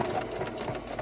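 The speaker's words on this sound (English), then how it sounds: "after it dries, I go over the whole thing with my sewing machine" A home sewing machine runs steadily, stitching along fabric pieces that were glued together for a costume of a dog's toy, its close, even mechanical whir lasting the whole short moment with no speech.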